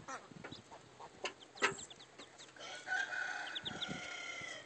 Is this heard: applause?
no